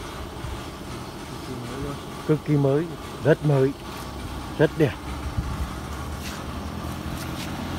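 An Iseki C63 Japanese tiller engine runs with a steady low drone in the background while someone talks over it.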